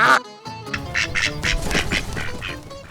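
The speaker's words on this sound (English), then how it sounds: "Welcome to my duck farm." Ducks on an outdoor duck farm in Slovenia quack in a dense, overlapping chorus, several birds calling close by in quick repeated bursts.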